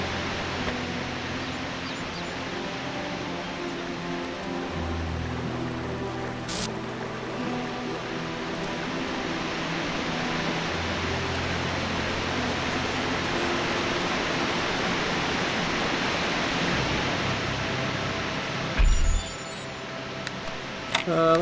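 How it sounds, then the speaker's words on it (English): A waterfall roars in The Talos Principle video game, a loud, continuous broadband rush that holds steady throughout, with someone talking over it and a brief knock near the end. "Waterfalls are very loud."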